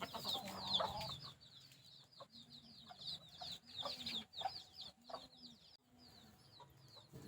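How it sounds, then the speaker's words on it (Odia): A flock of desi chickens cluck and chatter softly while pecking at scattered rice, with repeated short calls overlapping at close range against a quiet background. "ଚାଉଳ ପଡ଼ିଗଲା, ବର୍ତ୍ତମାନ ଦେଶୀ କୁକୁଡ଼ା ସବୁ ଆସିବେ।"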